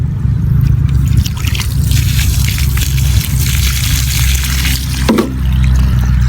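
Crickets being washed in water, giving a steady, close sloshing and trickling wash with a short splash near the end and no voices.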